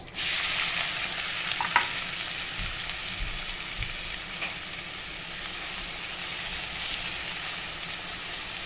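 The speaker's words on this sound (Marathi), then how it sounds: "आता आपण कांदा टाकतोय फोडणीला." Onion hits hot oil already tempered with cumin, asafoetida and turmeric, bursting into a loud sizzle at the start that settles into a steady, close frying hiss with a few faint stirring knocks.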